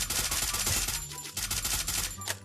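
Rapid automatic gunfire from a weapon in the mobile game Free Fire, dense bursts of shots firing almost continuously with a brief lull near the middle, loud and close.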